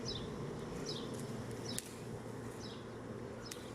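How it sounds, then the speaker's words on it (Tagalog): Bees buzzing outdoors in a steady, close drone, with individual passes rising and falling over the continuous hum and no voices. "ingat lang sa pagbabantay ng mga pukyutan baka ragragin tayo dyan"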